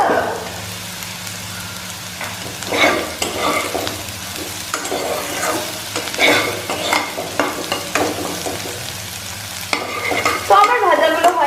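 Eggplant slices frying and being stirred in a pan for Bengali eggplant fritters: steady close sizzle with repeated scraping stir strokes, louder crackling near the end, no talk.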